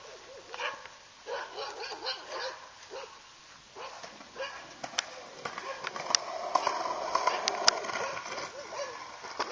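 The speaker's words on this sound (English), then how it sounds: "We got dogs all over the place," Several dogs bark in short bursts around a skate spot with a rolling grass gap in Dublin, the yaps coming and going over wind noise and background bustle, with voices talking.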